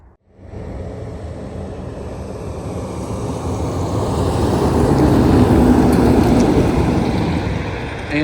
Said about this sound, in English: That sounds like an 18-wheeler.